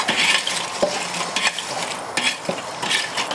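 Leftover charcoal from an earlier cook is pushed aside inside a Weber kettle grill, giving repeated gritty scraping and clinking of a metal tool over coals and grate, close up and fairly loud, with no one talking.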